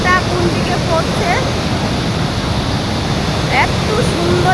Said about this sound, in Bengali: আর এই বিপরীত দিকে দেখো ঝর্ণার জলটা কোন দিকে পড়ছে